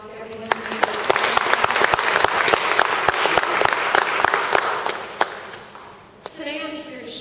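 Audience applause at a Cornell University talk on mental health stigma, a dense crowd of clapping with scattered sharper claps, ending in a brief pause before a voice begins speaking.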